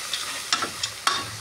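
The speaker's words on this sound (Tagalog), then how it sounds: "Palang hotdog. Yan, yung hotdog. Para mag-isa-gisa din siya." Sliced hotdog sautéing in a pan with onion for sopas, a soft sizzle broken by a few sharp scrapes and stirs of a utensil, close and short, with no talk.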